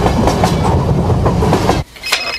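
A train runs on rails with a loud, rhythmic clickety-clack and rumbling roar for most of the clip, then the sound abruptly drops away to a quieter background.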